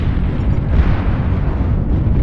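Missiles detonate against an icy landscape in MechWarrior Online, a dense, continuous low rumble of explosions that rolls on steadily for a couple of seconds, loud and without speech.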